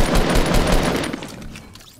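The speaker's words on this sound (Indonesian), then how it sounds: "membutuhkan 5 tembakan shotgun taktikal atau 5 ammo shotgun taktikal" Tactical shotgun blasts ring out in Fortnite Battle Royale, a loud rapid cluster of sharp shots that trails off into fading echoes.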